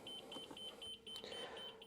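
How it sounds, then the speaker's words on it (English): The information display in a 2025 Renegade Explorer 40ERB motorhome gives a rapid run of short, high electronic beeps at an even pace, faint and thin against the hum of the cab. "Of course, it's going to beep during my talking here"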